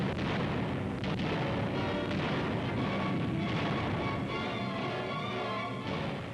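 Artillery fire rumbles around Bastogne during the WWII Battle of the Bulge, heard as a continuous, dense barrage of overlapping booms and rolling thunder with no pauses.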